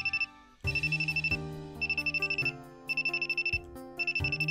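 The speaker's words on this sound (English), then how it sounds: "It's a call this time, not a text." A phone rings with an incoming call, an electronic ringtone repeating in bursts of rapid high trilling over a steady melodic backing, loud and close with no talk.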